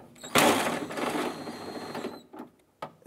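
A 10 mm socket wrench on an extension removes a nut inside the front driver door of a 2001-2005 Honda Civic, giving a close, rapid ratcheting burst followed by a few faint, separate clicks.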